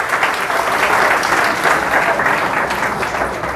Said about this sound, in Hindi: इनके लिए तालियां बहुत जोरदार।